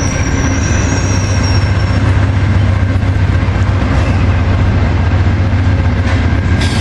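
An Amtrak P42DC diesel locomotive passes very close and loud, a continuous heavy rumble of engine and rolling wheels with faint squeals on the rails.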